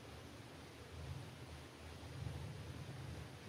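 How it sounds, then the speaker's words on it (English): Creek water flowing past the Cades Cove picnic area in autumn, a soft, continuous rushing wash with gentle low swells, faint and steady with no voices. "the sound of flowing water"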